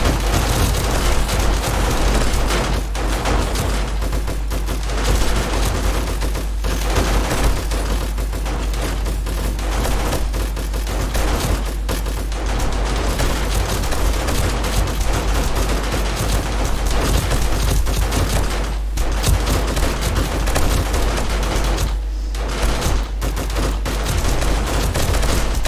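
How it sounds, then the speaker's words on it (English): Dense, sustained gunfire and booming blasts roar almost without pause during a Blood Moon horde night in 7 Days To Die, loud and continuous throughout. "Yeah, I was shooting him."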